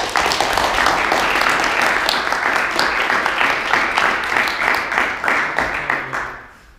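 A roomful of people clapping at a student Toastmasters meeting, thick continuous applause that holds steady for several seconds and then tapers off toward the end.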